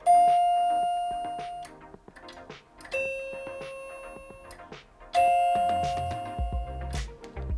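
A Schindler MT elevator chime panel sounds two different electronic chime tones, each ringing out and decaying, repeated three times with small clicks between, fairly close and clear.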